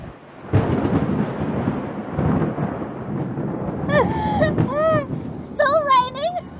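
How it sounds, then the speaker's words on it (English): Rain falling outdoors during a city sightseeing tour in Johannesburg, a steady wash of drops under a voice that breaks in midway with short bursts of animated talk, the rainfall continuing throughout. "Still raining."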